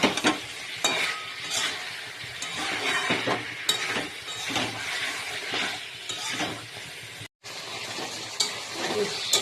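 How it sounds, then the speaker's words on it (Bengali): Potato and cauliflower are stir-fried in a pan with the base for a rui fish curry, giving a steady close sizzle broken by repeated scraping and clinking stirs of a spatula against the metal pan. "এই যে এই সবজিটা এবার এর মধ্যে দেবো, দিয়ে ভালো করে কষতে থাকবো"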